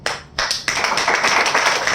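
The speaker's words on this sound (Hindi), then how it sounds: "जोरदार ताली आपके खुद के लिए।" Dense clapping from an audience at a network marketing motivational seminar, a short burst then a sustained wash of many hands, fairly loud with no talking over it.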